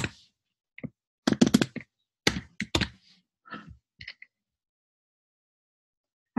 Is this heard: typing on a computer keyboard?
yes